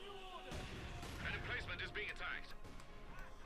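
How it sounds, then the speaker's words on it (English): Mortar fire in the World War II strategy game Company of Heroes 2, a few thudding shots and blasts with crackling debris mixed into battle noise, moderately loud under a commentator's continuous talk. "CPUC's mortar is just doing heavy damage"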